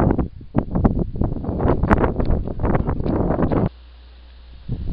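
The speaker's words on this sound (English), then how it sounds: "Allow me to give you a sample of the wind" Wind blows outdoors against the microphone in strong, gusty buffeting bursts, loud and close, then abruptly drops to a low steady rumble.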